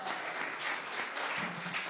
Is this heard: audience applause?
yes